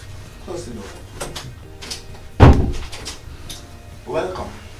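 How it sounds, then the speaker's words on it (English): A door closing in an office with one firm thud midway, while people speak before and after it. "Close the door."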